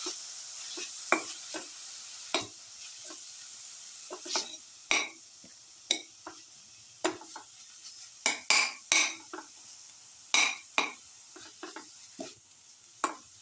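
Garlic coconut tomato dip being mixed with vinegar in a pan, a series of sharp scraping and tapping strokes of a spoon against the vessel in an irregular rhythm over quiet background.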